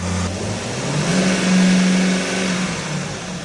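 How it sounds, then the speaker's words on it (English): An Aston car's engine revs loud and close, climbing to a steady drone before settling back, with no voices over it. "Rev it!"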